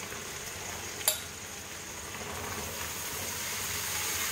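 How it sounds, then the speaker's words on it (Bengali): Ridge gourd pieces fry in oil with potato and onion, a steady soft sizzle and hiss throughout, with one brief clink of a utensil near the start and no talking. "আলু পেঁয়াজটা কিছুক্ষণ ভাজা হয়ে যাওয়ার পর আমি দিয়ে দেবো কুটে রাখা ঝিঙের টুকরো।"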